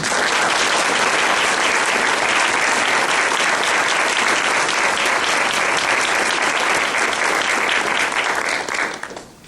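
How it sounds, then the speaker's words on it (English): A large audience at a youth awards ceremony breaks into loud, dense, sustained applause that holds steady for several seconds before quickly tapering off at the end. "let's give them a nice round of applause, please"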